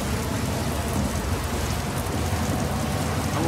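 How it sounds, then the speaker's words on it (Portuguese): Steady, heavy rain in a driving simulation video game pours continuously with a dense hiss and low rumble, no voices. "Vamos viajar com chuva"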